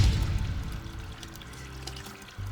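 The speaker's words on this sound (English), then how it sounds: "I'm going to turn the water off because the water has reached the appropriate level" Water runs steadily into a Safe Step walk-in bathtub, a continuous close pouring wash with a low rumble that eases slightly before a small shift near the end.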